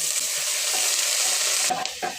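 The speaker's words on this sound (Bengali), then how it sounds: "পেঁয়াজ কুচি দিয়ে দেব।" Chopped onions fry in hot oil in a frying pan, giving a continuous bright sizzle with stirring scrapes near the end and no talking.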